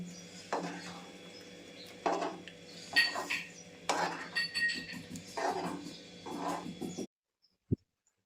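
A spoon scrapes and clinks against a pan while dry ginger powder is stirred into a sweet dish, in several short bursts of clatter, fairly close, followed by near silence and one last tap.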